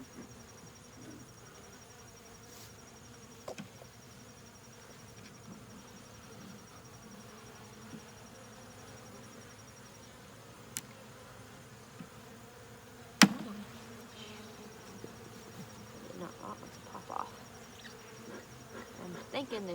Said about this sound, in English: there's a lot of bees, or a fair decent amount of bees.